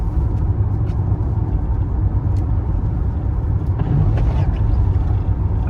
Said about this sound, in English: Once I can get this out onto the open road, I'll give it a bit more spirited acceleration.